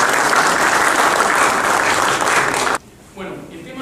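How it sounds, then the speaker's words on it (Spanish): Dense audience applause welcoming a speaker to a workplace health and safety talk, loud and steady for nearly three seconds before cutting off abruptly, followed by quiet room noise and a brief murmur. "lo vamos a recibir con un fuerte aplauso"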